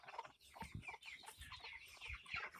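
Game fowl chickens and a rooster cluck repeatedly in a Jamaican yard, a busy overlapping chorus of short calls at moderate distance with no talking.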